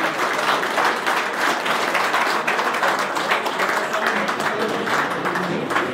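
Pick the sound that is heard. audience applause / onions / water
audience applause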